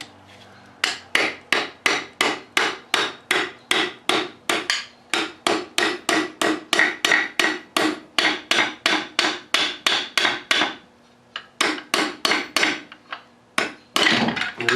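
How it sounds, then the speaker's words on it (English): A truck's bearings are hammered out during the teardown of a 2001 Ram 3500 Cummins: loud, close, metallic blows in a rapid steady rhythm, dozens in a row with a short pause near eleven seconds, then a few more strikes. "The reason why I'm hammering on that is because I'm replacing the bearings on them"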